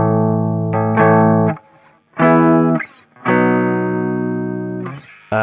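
Electric guitar power chords with the bridge pickup and heavy distortion, played in a rock part as three loud sustained chord blasts separated by short gaps, the last one ringing out long.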